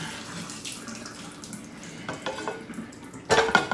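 Water runs and splashes from a kitchen tap into a pan for cooking quinoa, a soft steady flow that swells into a louder splashing burst near the end.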